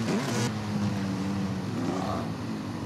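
An off-road motorcycle engine in the MX vs ATV Legends video game holds a continuous, fairly loud whining drone with slight pitch wavers, heard alone without talk.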